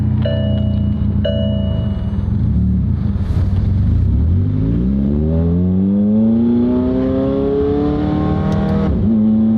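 McLaren 720 GTR engine idles roughly, then surges and climbs in revs with a rising harmonic whine, loud and close with no talk over it.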